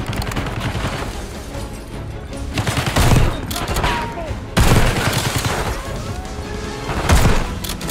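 Gunfire from the video game Black Ops 6 crackles in rapid bursts, with louder heavy volleys around the middle and near the end over continuous battle noise, and faint voices mixed in.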